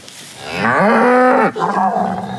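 A single long, loud moo from a cow on Manor Farm, close by and rising then falling, followed by a quieter trailing bellow.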